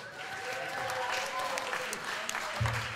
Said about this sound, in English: See, he's clapping for himself.